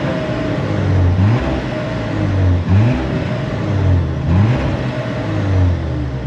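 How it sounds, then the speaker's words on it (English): A 2025 Audi A5 revs repeatedly, each rev a quick rise and fall in engine pitch. The exhaust note is loud and close, with no talking. "we should probably hear how it sounds when it comes to the exhaust note for the 2025 model year"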